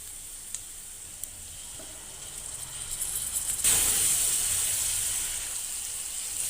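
Onion with a quarter spoon of turmeric and ground spice paste sautéing in a pan for a radish thecha, a steady soft sizzle that swells louder partway through and keeps hissing to the end.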